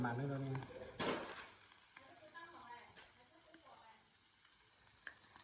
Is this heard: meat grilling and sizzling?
yes